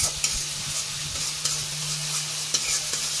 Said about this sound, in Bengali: আর এই যে মশলাগুলো কষাই নিতেছে